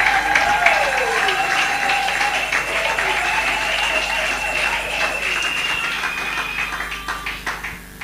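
A church congregation at a French-speaking worship service claps and cheers loudly and continuously, with voices calling out over sustained applause that fades slightly toward the end.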